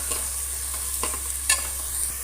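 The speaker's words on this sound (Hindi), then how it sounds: "अब हम इसमें डालेंगे जो हमने चॉप ऑनियन कट किए हैं, इसे सॉफ्ट होने तक फ्राई कर लेना है।" Chopped onions fry in oil in a pan under a steady, close sizzle, broken by a few light scrapes and taps as they are stirred, with no talk.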